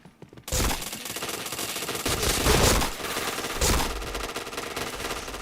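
Sustained loud bursts of automatic rifle fire in a shooting video game, dense and continuous with a couple of heavier surges, starting abruptly after a brief quiet moment.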